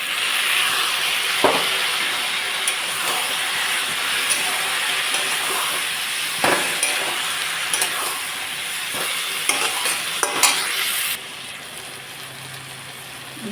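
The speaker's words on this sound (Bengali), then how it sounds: "এখন দিয়ে দিচ্ছি পেস্ট করা মশলা।" Spice paste hits fried potatoes and onions in a pan, a continuous close sizzle with intermittent scraping stirs, then the frying drops noticeably quieter near the end.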